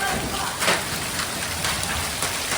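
Heavy rain, with hail mixed in, drums on clay roof tiles during a thunderstorm, a dense, continuous patter with a few brief louder spatters standing out near the start.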